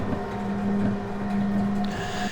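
A low, steady engine-like exhaust drone from a device in the Myst (2021) video game, holding a sustained hum with a brighter hiss entering near the end, no talk.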